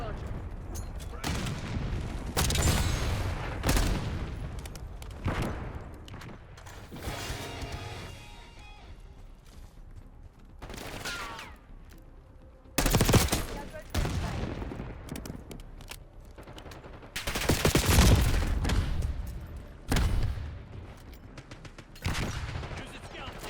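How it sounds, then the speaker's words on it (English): Rocket launcher blasts and gunfire in Black Ops 6 come as loud, booming explosions and bursts of shots separated by quieter stretches, with voices talking in between. "Breaking out rocket launcher."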